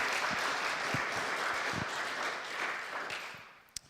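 A church congregation at its annual meeting applauds for about four seconds, a soft, fairly distant patter of clapping that fades out toward the end.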